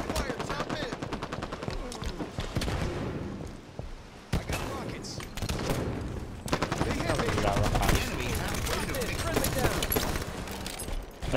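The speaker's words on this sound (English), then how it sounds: "Rocket launcher ready." Rapid gunfire and weapon blasts, including a rocket launcher, in the Halo 5 Guardians multiplayer video game, with dense, continuous shooting throughout that grows louder toward the end.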